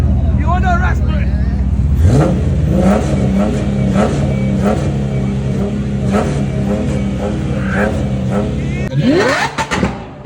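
A car engine revving at a car show in Derry, Ireland, loud and close, with repeated rising revs over a steady idle and people talking and shouting over the engine noise.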